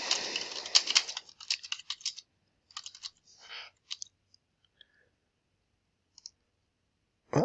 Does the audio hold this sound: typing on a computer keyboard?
yes